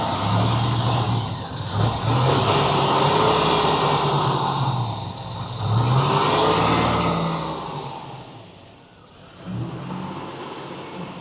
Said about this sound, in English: Go ahead, start it up again. I guess you do have to pump it. Get in there and hold it at RPM for a little bit.